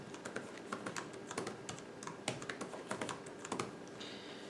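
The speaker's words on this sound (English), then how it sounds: "I'm going to cut away while I type a password." Quiet, irregular keystrokes on a Framework 13 laptop keyboard as a password is typed, a steady patter of soft clicks with small pauses between them.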